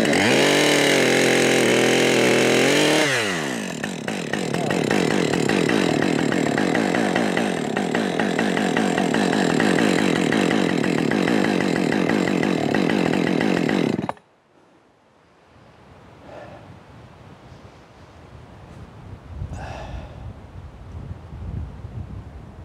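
Chainsaw on the Scottish Isle cutting a large storm-felled tree: loud, steady buzzing roar for about fourteen seconds with a drop in pitch early on, then it cuts off, leaving faint wind and outdoor ambience.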